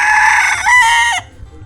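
A rooster crows once, loud and close, in a mountain hill-tribe village setting; the call rises and then drops off sharply, followed by quiet.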